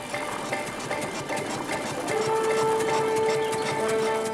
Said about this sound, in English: The tractor's pulling a reaper binder, one of the most important agricultural machines of the age.